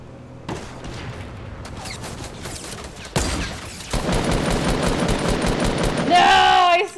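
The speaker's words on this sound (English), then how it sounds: "people are sniping each other. They're fighting somewhere." Gunfire in the Fortnite video game, loud bursts of rapid shots that start and stop abruptly, growing denser toward the end, with a voice talking briefly in between.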